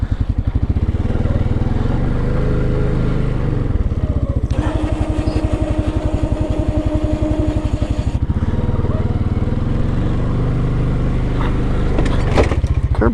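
An ATV on new tires and rims plows snow while riding in winter, its engine droning loudly and steadily up close, with a burst of revving mid-way and a rattling clatter near the end.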